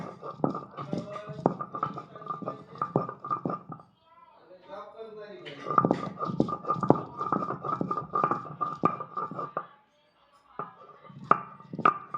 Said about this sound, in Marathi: लसूणच्या पाकळ्या आणि खोबरं याचं वाटण करते त्यामध्ये कोथिंबीर सांबार वाटण करणार